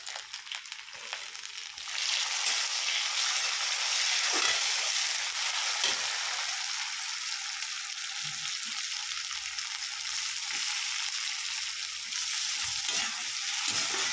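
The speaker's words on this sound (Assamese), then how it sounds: "আলুটো পনীৰৰ লগতে ফ্ৰাই কৰি লৈছোঁ" Potatoes fry in hot oil with paneer, making a constant, close hiss and crackle of sizzling that grows louder after the first couple of seconds, with occasional stirring knocks and no voices.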